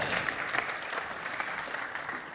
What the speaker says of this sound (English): Thunderous applause for Will.